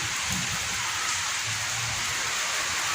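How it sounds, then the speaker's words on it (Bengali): Steady rain pours down in a dense, even hiss, with a faint low rumble underneath. "বৃষ্টি শুরু হয়ে গেছে"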